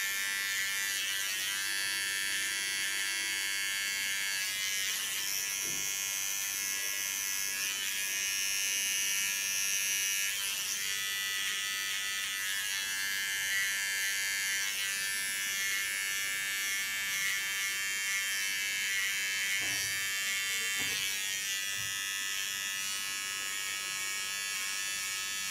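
Electric clippers shave the nape of the neck at a salon, producing a steady, close, high-pitched buzz that holds for the whole stretch with slight variations as the blade moves, and no speech.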